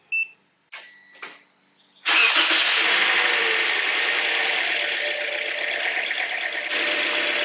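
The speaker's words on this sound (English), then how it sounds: "Cranking is low, and the car is shaking a lot." A 2014 Toyota Corolla with low cranking gives a couple of brief, uneven cranking bursts, then a loud, steady engine rumble with some rough vibration that carries on close by for about five seconds, with no talk.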